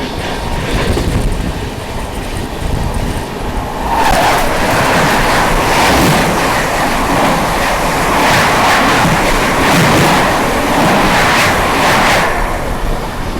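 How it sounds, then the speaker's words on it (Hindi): The Seemanchal Express passing close by on adjacent rails, heard from aboard the Vikramshila Express; a loud, steady roar of wheels with rhythmic clickety-clack bursts that swell midway and persist throughout, with no talking. "सीमांचल एक्सप्रेस क्रॉस होने वाली है"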